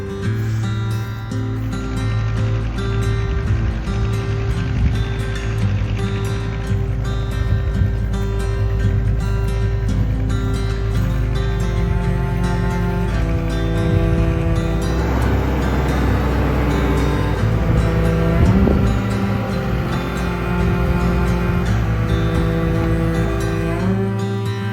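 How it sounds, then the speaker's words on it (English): A tractor pulling a trailer approaches in a park setting, its engine a continuous loud rumbling drone with rattling that builds slightly toward the middle and stays steady to the end. "So I'm hearing Bertrand coming with his tractor and trailer"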